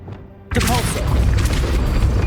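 A Depulso spell cast in Hogwarts Legacy lands as a sudden loud blast, then a dense, sustained rushing roar continues close up.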